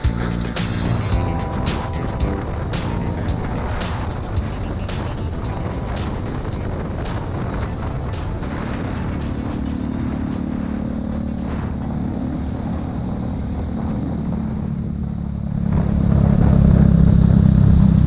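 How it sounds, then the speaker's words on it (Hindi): A truck engine rumbles steadily and close throughout, low and continuous, swelling louder near the end as it revs. "इस गाड़ी का जो साउंड है ना इतना बवाल आ रहा है।"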